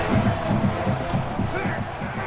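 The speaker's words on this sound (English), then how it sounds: "This crowd can really be intimidating for an opposing team." Steady stadium crowd roar fills the video game's college football simulation of Auburn at Florida, a continuous wash of massed voices beneath a commentator's ongoing play-by-play talk.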